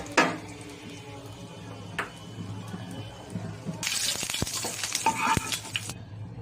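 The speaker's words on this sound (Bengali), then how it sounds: "এবার ভেজে নিলাম রসুন" Garlic fries in a pan, giving a soft sizzle and occasional clatter of utensils; partway through, a louder, denser frying hiss swells up and then stops abruptly.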